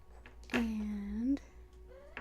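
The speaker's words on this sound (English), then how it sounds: "I don't know if you hear my cat" A pet cat gives one drawn-out, close meow lasting nearly a second in an otherwise quiet indoor room.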